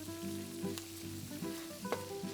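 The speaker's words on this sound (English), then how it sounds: "I'll stir this around and let the spices toast." Cumin and paprika toasting and being stirred in a pan, a steady close sizzle with scraping stir strokes breaking through every half second or so.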